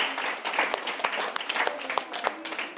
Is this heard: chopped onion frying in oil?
no